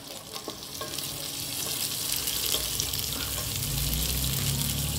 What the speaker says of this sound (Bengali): পেঁয়াজ কুচিটা মা সতে করছে।